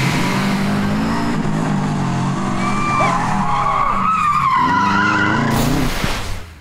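A car skids loudly with screeching tyres and a revving engine as it speeds away. The sound is close and continuous and fades out at the end.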